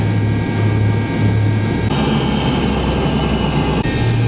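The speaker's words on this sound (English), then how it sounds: "I'm right next to the engine" A loud, steady airliner jet engine roar heard up close from a seat beside the engine while taxiing, with a constant high whine and deep rumble running throughout.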